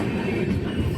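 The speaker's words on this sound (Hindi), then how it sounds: "एंड देखिए ट्रेन जा रही है वहाँ तक" A passenger train pulling away from a station, a steady close rumble of wheels and carriages with no break and no talk.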